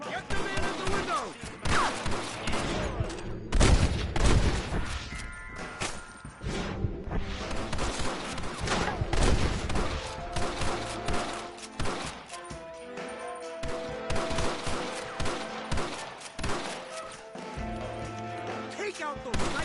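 Heavy shootout gunfire in the Red Dead Redemption video game, repeated cracks and volleys scattered across the whole stretch over a musical score, with voices shouting now and then.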